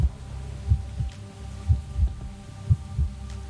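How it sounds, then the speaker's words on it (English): A synthetic heartbeat sound effect thumps in paired low beats, lub-dub repeating steadily about once per second over a faint background hum, with no talk. "We can turn the heartbeat off."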